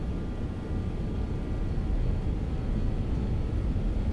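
BAe146 jet engines spooling up to takeoff thrust in a flight simulator, a steady, dense low roar that holds loud and even throughout with no talk over it.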